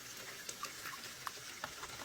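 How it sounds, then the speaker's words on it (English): A spoon stirring citric acid into water, giving faint, irregular light clinks and ticks spread over a couple of seconds, with no talk. "We're gonna stir the citric acid with the water"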